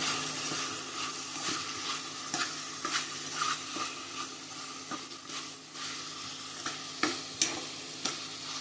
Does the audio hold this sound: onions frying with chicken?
yes